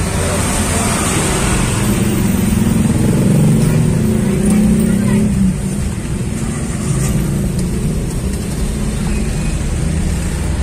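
Large vehicle rolling into a residential housing complex, a loud steady rumble of engine and road noise that peaks midway and then eases slightly as it continues.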